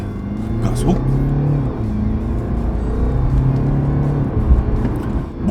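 BMW 320d diesel sedan accelerating hard after a speed bump, a steady engine drone heard from inside the cabin with a person talking over it.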